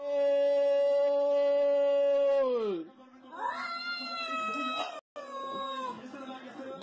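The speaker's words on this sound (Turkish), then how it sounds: "Kedi ise gol sevincini sahibiyle birlikte yaşadı." A cat yowls loudly in long, drawn-out wavering cries while a football match is celebrated, the first sustained howl falling off before a second, higher run of yowls close up.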